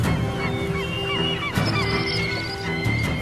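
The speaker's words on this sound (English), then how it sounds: "Flocking from sheltered valleys, birds time their arrival with these daily excursions." A flock of birds calls over Japanese winter ice floes where fishing boats trawl, giving loud, repeated goose-like honks that overlap continuously.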